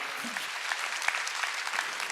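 Congregation clapping during a Korean church worship service, a soft, steady patter of many hands heard fairly distant and faint, with a brief low vocal sound near the start.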